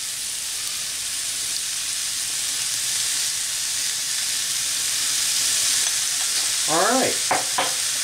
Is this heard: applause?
no